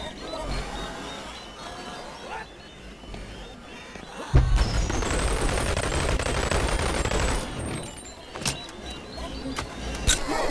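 A gun in the VR game Boneworks fires rapid bursts in the middle stretch, loud and close, mixed with clattering mechanical sounds and scattered single shots near the end, with someone speaking.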